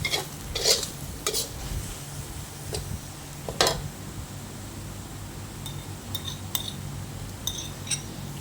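Sliced pork stir-fried with fish sauce and light soy sauce for a spicy Thai stir-fry, with a metal spatula scraping and clinking against the pan in irregular taps over a steady low sizzle.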